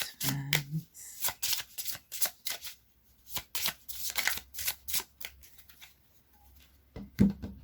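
A deck of oracle cards is shuffled by hand in repeated riffling bursts, close and crisp, with short pauses between passes and a sharper snap near the end; no one speaks.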